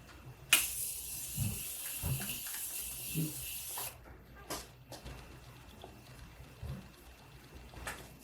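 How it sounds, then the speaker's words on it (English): A quiet room with a few short, soft hisses of Morphe makeup setting spray mist on eyebrows, one sharper burst near the start, with faint movement between them. "I'm gonna use Morphe setting spray and set my brows"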